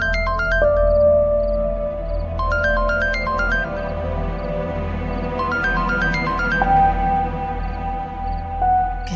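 A phone ringtone plays a repeating electronic melody in bursts over a low steady hum, fairly close and clear.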